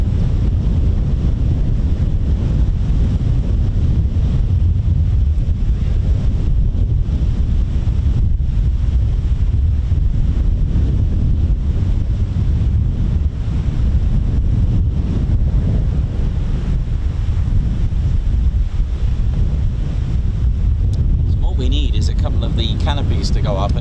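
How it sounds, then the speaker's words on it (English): Strong, extreme wind buffets and roars at an airfield, constant and loud across the whole stretch, with people speaking over the gusts. "We're just hanging on to this extreme amount of wind that we're getting at the minute."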